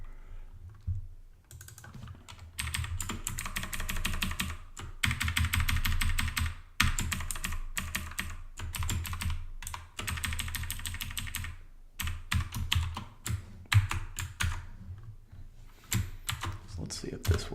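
Commands typed on a computer keyboard, steady quiet clatter of keystrokes in bursts with brief pauses, close and soft, with a voice talking at times.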